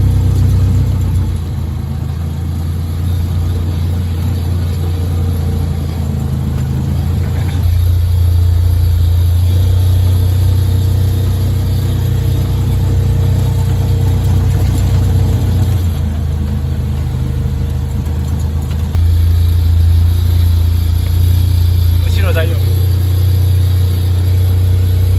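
An auto rickshaw engine running steadily during a ride, its low rumble close and continuous, the pitch shifting slightly as it speeds up and settles, with no voices over it.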